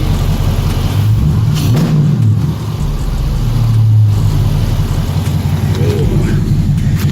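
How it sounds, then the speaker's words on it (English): A 392 engine with a JLT cold air intake rumbles steadily and loudly up close, rising briefly in a quick rev before settling back into a low idle. "Give y'all a couple of revs real quick."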